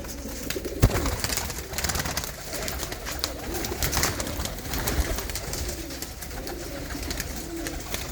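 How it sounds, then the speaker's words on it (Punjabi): Pigeons cooing in soft, repeated low burbling phrases over a steady, noisy outdoor background, with no one talking. "ਇਹ ਉਹ ਕਬੂਤਰ ਹੈ"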